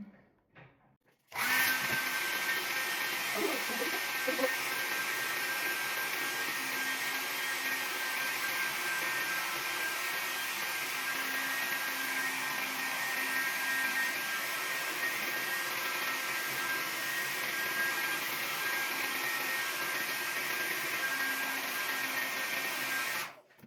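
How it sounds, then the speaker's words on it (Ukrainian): A Philips or XO hair dryer switches on after a brief moment and blows with a steady, loud whooshing whine that holds constant until it cuts off at the end. "я засікаю таймер і включаю фен"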